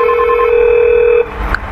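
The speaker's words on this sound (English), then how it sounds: "normally it's ringing now on my iPhone" An iPhone ringing with a loud, close electronic tone that holds steadily for about a second before cutting off into a short burst of handling noise.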